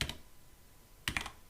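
PHP code being typed on a computer keyboard: two quick bursts of soft key clicks, a short cluster at the start and another after a pause, close and quiet.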